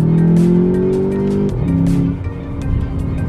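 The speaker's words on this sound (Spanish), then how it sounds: "El tema del sonido del escape es un tema discutible" A Volkswagen Jetta GLI's engine and exhaust drone loudly from inside the cabin, a steady low hum that dips briefly then settles into a rougher rumble.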